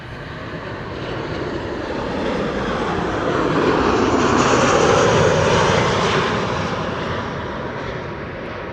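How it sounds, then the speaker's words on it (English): A KLM Boeing 737 arrives at Amsterdam Schiphol from Birmingham; its engine roar swells to a peak midway and eases off slightly as it passes. "KLM 737 arriving from Birmingham."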